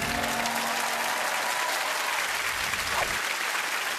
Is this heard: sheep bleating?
no